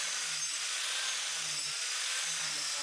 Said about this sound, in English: I'm not an expert at wood carving with the angle grinder